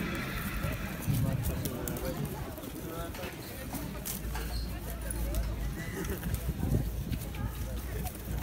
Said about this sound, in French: On lâche la pouliche et on part au trot pour faire un aller-retour.